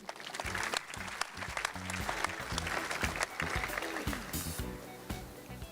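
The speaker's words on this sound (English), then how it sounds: "A round of applause for him, please." Applause at a Sharks high schools rugby capping ceremony for the association chairman, sustained clapping from the assembled crowd for several seconds, loud and close, with no one speaking over it.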